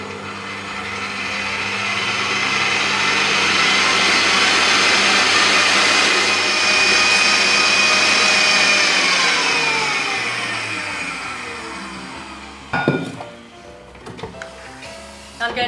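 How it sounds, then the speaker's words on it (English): An electric mixer whirs steadily as it beats eggs until light and fluffy, a loud continuous motor drone that swells and eases, then stops near the end with a few clanks of the bowl and faint movement. "We're going to beat these eggs for 7 minutes, which is going to make this mixture light and airy and fluffy."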